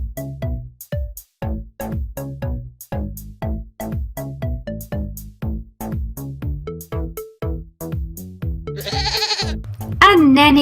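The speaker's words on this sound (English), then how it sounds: "A nanny goat." A nanny goat bleats again and again in a fast, regular run of short, wavering, nasal cries, loud and close, followed near the end by a brighter, warbling, tonal sound.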